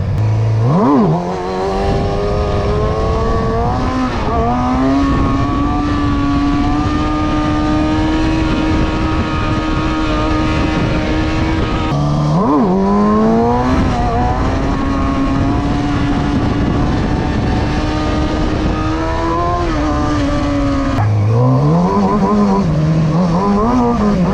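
A KTM SXF250 motorcycle rides past continuously and loud up close, its engine revving and shifting through rising and falling pitch, dropping briefly before climbing again.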